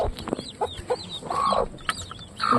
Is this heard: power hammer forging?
no